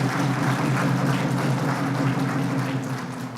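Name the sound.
audience applause at political party event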